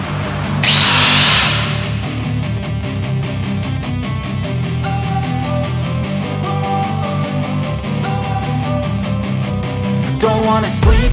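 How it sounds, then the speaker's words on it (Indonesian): A power drill boring steadily into a seized, broken bolt, the motor whine and grinding continuous and loud from start to finish with a few brief surges near the end. "Bekasnya dibur dikit agar ke bautnya gak masuk"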